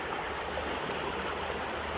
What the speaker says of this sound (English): just hanging out down here by the river